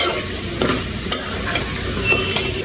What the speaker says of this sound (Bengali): টমেটোটা দেওয়ার পর আমি কিন্তু তিন চার মিনিটের মতো কষাইছি তরকারিটা